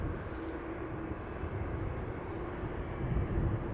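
A jet aircraft at Amsterdam Schiphol Airport rumbles low and steady in the distance, a faint continuous engine roar that swells slightly toward the end.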